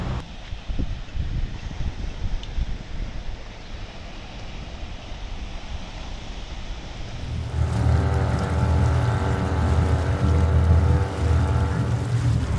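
A boat engine drones on the ride out to St. Mary's Island, with wind rushing across the microphone; the motor grows louder and fuller about halfway through, and no one speaks.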